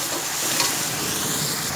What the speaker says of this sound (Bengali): এবার এটাকে আমি নেড়ে চেড়ে দিচ্ছি।